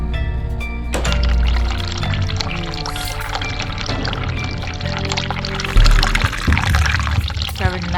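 Running water from a tap in The Cat Lady video game pours steadily and fairly loudly, joined by game music tones and a brief clatter partway through.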